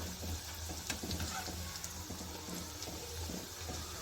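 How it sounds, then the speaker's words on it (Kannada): Layered homemade snacks fry in oil until crisp, a continuous quiet bubbling sizzle with a few small pops and crackles, steady throughout and free of speech. "ಚೆನ್ನಾಗಿ ಗರಿ ಗರಿ ಆಗೋವರೆಗೂ ನಾವು ಎಣ್ಣೆಯಲ್ಲಿ ಫ್ರೈ ಮಾಡಿ ತಗೋಬೇಕಾಗತ್ತೆ"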